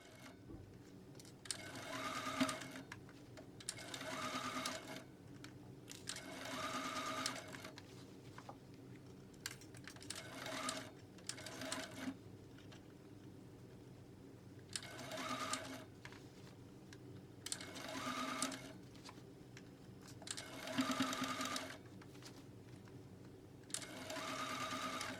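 A sewing machine stitches the armhole seam of a shirred dress in a series of short runs, each a few seconds long and separated by brief pauses, heard close and quiet without any voices.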